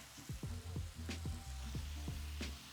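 Salmon fries in a pan with a quiet, steady sizzle, broken by several short, sharp scraping and clinking sounds.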